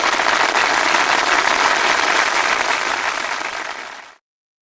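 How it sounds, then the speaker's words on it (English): Dense, steady applause from a studio audience during a psychic radio broadcast, sustained at full strength for about four seconds before fading and cutting off abruptly. "Hold the applause."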